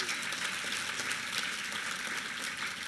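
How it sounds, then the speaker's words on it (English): Audience at a design awards gala giving a round of applause: dense, even clapping from a crowd, moderately loud and sustained throughout. "give them another round of applause"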